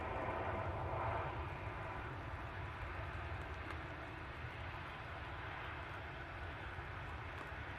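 A Ryanair airliner departs Manchester Airport for Belfast, its engine roar a steady, loud broadband rush that stays level throughout with no talk.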